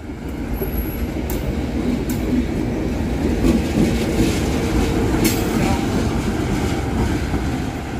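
A train on a grass-covered plantation railway rolls past during shunting, a steady loud rumble with clickety-clack of wheels over the rails and a brief high squeal, close by throughout.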